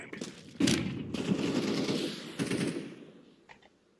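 Rapid automatic gunfire bursts in the video game CS:GO, loud and close, in several sharp volleys that trail off toward the end.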